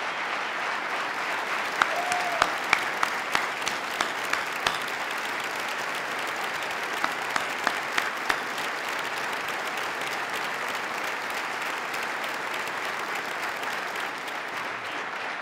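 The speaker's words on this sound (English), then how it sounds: "Let's give them a round of applause and thank them for the great work that they do." An audience at the 2018 New York State of the State Address gives sustained applause, a dense steady clapping from a large hall that goes on for about fifteen seconds, with a few sharper claps near the start.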